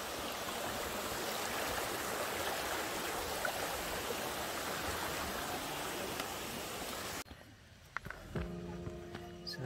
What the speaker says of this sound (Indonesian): Ada mata air juga,